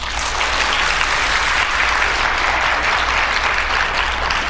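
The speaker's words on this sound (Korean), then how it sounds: "나올 때 박수로 맞이해 주시기 바랍니다." A studio audience gives sustained, loud applause as a guest is welcomed onto a Korean radio talk program, with a steady wash of clapping and no speech throughout.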